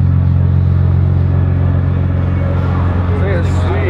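A 1550 horsepower Nissan GTR fitted with nitrous sits idling with a steady, loud low rumble, close by, for a few seconds; faint voices talk over the engine.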